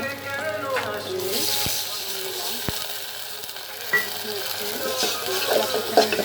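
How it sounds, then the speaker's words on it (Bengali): Steady sizzling as water is added to spices frying in a pan, with occasional stirring scrapes and clinks, continuous and close. "এখন আমি এটার মধ্যে পানি দিব মশলা কষানোর জন্য।"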